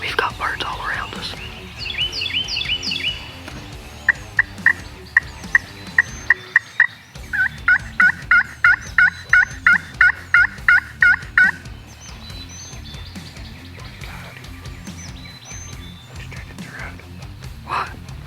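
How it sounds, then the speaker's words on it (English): Wild turkeys gobble repeatedly outdoors during a North Carolina turkey calling competition, a rapid series of loud, rattling gobbles that rises and fades, with birds calling from different distances and people whispering nearby. "That's a turkey."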